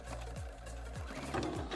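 Sewing machine top stitching along a fabric edge on an Easter bunny bag: a steady close mechanical whir with rhythmic stitching pulses and a few pitch sweeps from the motor.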